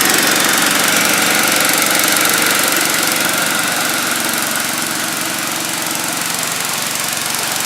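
A Bolens 1256 snow blower engine runs steadily nearby with a constant loud, rough mechanical drone and no speech over it.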